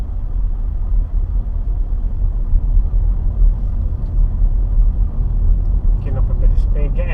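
Car pulling away out of a town centre onto a clear road, heard from inside as a steady, loud low engine rumble, with a faint voice near the end.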